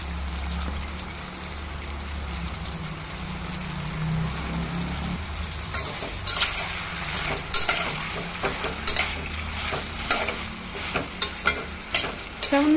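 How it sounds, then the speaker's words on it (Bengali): Potatoes with poppy seeds frying in a pan, a steady sizzle joined partway through by sharp, irregular scrapes and clinks of stirring that grow louder and busier toward the end. "তো অল্প আলু ভাজবো পোস্ত দিয়ে"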